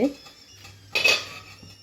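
A metal lid comes off a cooking pot of ragi-flour sweet just after the stove is turned off, giving one bright clank near the middle of the clip, preceded by a faint low hum and a few quieter knocks.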